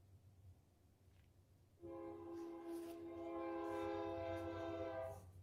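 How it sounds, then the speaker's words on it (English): A train sounds a long, faint, sustained horn from a distance, rising out of low background rumble and holding for a few seconds before fading. "There goes the train."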